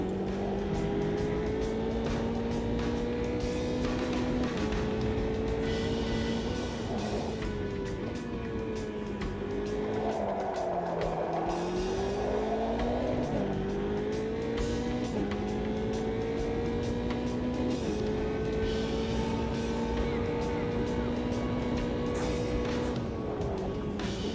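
A video game race car's engine drones at high revs, its pitch rising through the gears with brief dips on lifts of the throttle through a chicane and right-hander, steady and continuous with no talk.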